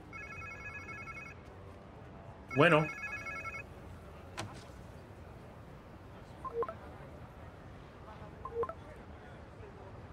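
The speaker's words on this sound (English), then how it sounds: "Sounds like somebody's phone." A mobile phone rings in the video game Spider-Man 2 with a bright, tonal electronic ringtone in two short bursts, while a voice and other game sounds carry on between them.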